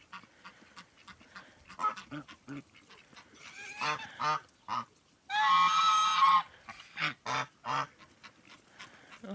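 Domestic farmyard geese honking, a close series of short nasal honks in irregular bursts with one longer loud chorus of several birds calling together midway, separated by brief quiet gaps.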